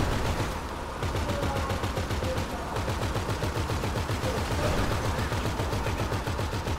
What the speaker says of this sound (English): Shoot the sleeping guy.